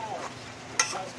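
A spoon stirs Bicol Express simmering in coconut milk in a pan, a soft bubbling murmur with one brief scrape of the utensil against the pan.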